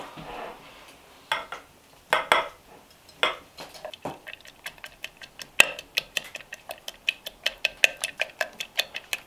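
Eggnog ingredients and sugar are stirred in a bowl, a run of sharp clinking taps from utensil against bowl, irregular at first and then a quick, even rhythm, fairly close and with no talk.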